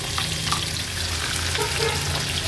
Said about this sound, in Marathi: आता फोडणीला आपण हे आलं, लसूण, मिरची, कोथिंबीरचा क्रश घालूया।